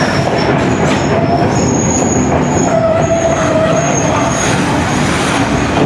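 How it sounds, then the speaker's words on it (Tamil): A local train arrives at a station in Sri Lanka, rumbling loudly past, wheels grinding and squealing on the rails with high metallic screeches over a constant heavy roar. "ஸோ ட்ரெயின் வருது."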